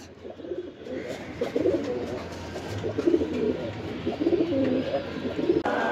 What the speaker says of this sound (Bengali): এখানে একজোড়া ছাড়াছাড়ি লাইনের কবুতর আছে